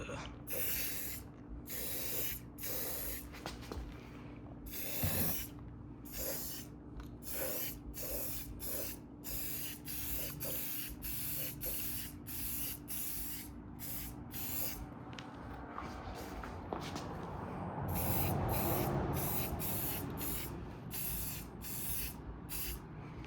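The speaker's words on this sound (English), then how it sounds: "I'm gonna go ahead and hit it with some Rust-Oleum automotive primer." Rust-Oleum automotive primer sprayed from an aerosol can in repeated short hissing bursts with brief pauses, close and fairly faint, followed by a longer sustained spray toward the end.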